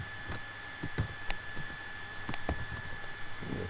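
Computer keyboard keys pressed while writing HTML code, a scattered run of close, crisp clicks with irregular spacing over a steady electrical hum.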